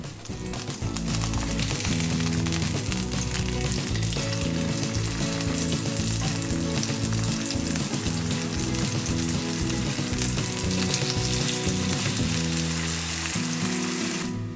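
Hash browns frying in a pan for a breakfast burger, a loud, dense, continuous sizzle that holds steady throughout with no pauses.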